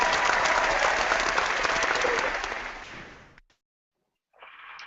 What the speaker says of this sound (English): How about some applause, Mark?